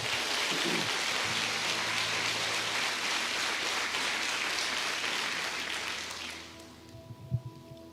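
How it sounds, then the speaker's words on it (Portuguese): Congregation applauding in a church service, a dense sustained roar of clapping from many hands that fills most of the stretch and then fades away, with a low murmur at the end. "Dê um aplauso ao Senhor"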